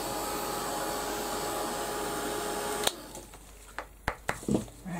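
Failing heat gun drying a mixed media piece, a steady loud blowing whir that cuts off abruptly, followed by a few faint knocks and clicks.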